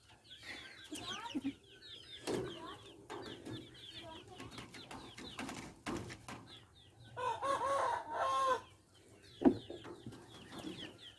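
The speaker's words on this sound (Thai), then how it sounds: "อันนี้เป็นไก่พม่า" Burmese chickens cluck intermittently nearby, and a Burmese rooster lets out a clear crow partway through, with sharp knocks and faint background noise.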